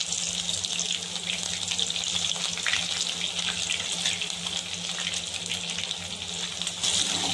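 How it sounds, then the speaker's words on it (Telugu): Mustard seeds and thinly sliced onions fry in hot oil for a tempering, giving a steady, close hiss and sizzle that runs continuously without pause and with no voices over it. "దీంతో తిరగమాతలో ఆవాలు వేసుకోవాలి ఫ్రెండ్స్. సన్నగా కలుపుకున్న ఉల్లిపాయ ముక్కలు వేసుకోవాలి ఫ్రెండ్స్."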